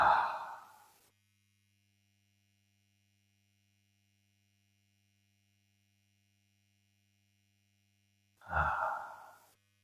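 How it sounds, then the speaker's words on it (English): Two slow, deep breaths drawn into the belly, one at the start and one near the end, each a soft airy exhale, with a faint low electrical hum in the quiet stretch between. "take 3 breaths into your belly"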